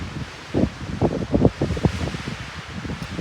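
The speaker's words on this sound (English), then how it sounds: "it's very windy out here" Gusty wind over a close microphone in the mountains on the Continental Divide Trail, a broad hiss with several uneven low thumps and rustling surges, no voices.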